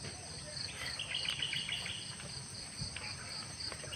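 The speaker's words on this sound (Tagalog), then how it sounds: "Maririnig niyo po yung mga huni ng ibon" Outdoor ambience on a farm in Silang, Cavite, with high, repeated bird chirps and a steady insect-like drone, fairly faint, with scattered calls coming and going.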